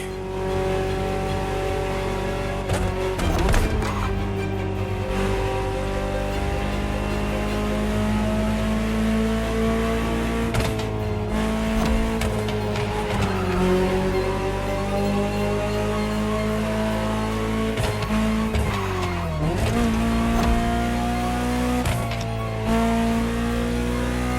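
A Ferrari supercar engine in the video game The Crew Motorfest roars continuously, with gear shifts, rising and falling revs, and brief squeals over a steady loud drone.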